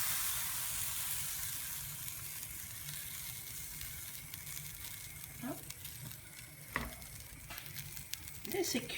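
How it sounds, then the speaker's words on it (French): Baghrir crêpe batter cooking on one side in a hot pan, with a continuous faint sizzle and hiss, joined near the end by a few light clicks and taps. "Il faut faire cuire la crêpe que d'un seul côté."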